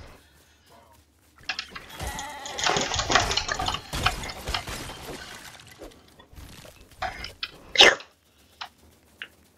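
A sheep in the video game Fortnite Lego, being attacked by zombies, gives a few short bleats amid scattered game effects and bursts of noise, with quiet moments between.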